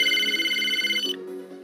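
A phone in the Roblox pizza tycoon video game rings with a bright electronic tone that warbles rapidly, loud and close, before shifting to a lower tone and fading.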